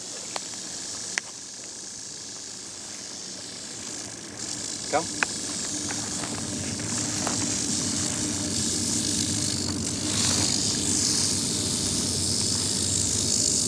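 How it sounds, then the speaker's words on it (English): A Northern Pacific rattlesnake with an unusually long rattle buzzes its tail in a steady, dry hiss that runs throughout, close and fairly loud, with a person speaking briefly over it outdoors. "Beautiful Northern Pacific rattlesnake. Look how long that rattle is."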